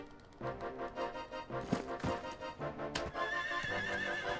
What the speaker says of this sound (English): Kick the poor horsey.